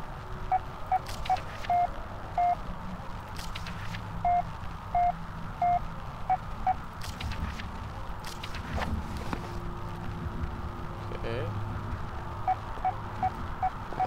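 Morse code beeps come over a radio in the horror game Penumbra Overture, short high tones repeating in uneven groups against steady ambient noise and occasional footsteps.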